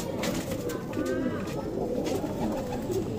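Madrasi Punjabi breeding pigeons coo in soft, repeated rolling calls, close by and fairly quiet over a low steady background hum.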